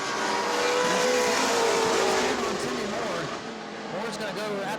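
Short-track race cars roar around the oval at New Smyrna Speedway, a loud continuous engine drone with a pass fading slightly, while a commentator talks over it.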